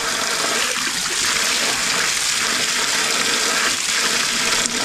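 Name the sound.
well water running from an outdoor hose bib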